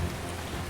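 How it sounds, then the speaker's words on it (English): Heavy rain pours down at night in a dark rural film scene, a dense, steady wash of noise with a low rumbling undertone, brief and loud. "the rain is pouring down in the middle of the night"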